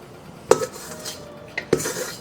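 Peanut butter chocolate chip cookie dough scooped from a bowl, giving two sharp, close metallic clinks of the utensil against the dish with quiet scraping in between and no talking.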